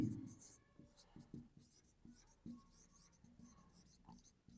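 Pen scratches across paper in short, rhythmic strokes, close and very faint, with a brief soft voice-like sound at the start.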